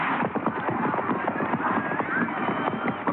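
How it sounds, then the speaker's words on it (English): Horses gallop in the Palio horse race: dense, rapid clattering hoofbeats with crowd commotion and voices mixed in, loud and continuous and heard through a band-limited recording. "Anything goes during the frantic seconds of mad galloping"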